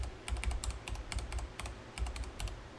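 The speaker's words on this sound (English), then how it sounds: "inside of there, we want to type in collectibles" Computer keyboard keys typed in quick irregular bursts with brief pauses between, close and fairly quiet, with no one talking.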